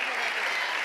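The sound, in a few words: congregation applause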